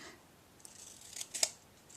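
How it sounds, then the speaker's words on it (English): Paper snips cutting a sheet of designer paper into fringe, a few quiet crisp snips at irregular intervals, close and alone in a quiet room. "I took my paper snips and just cut about every 1/4 inch"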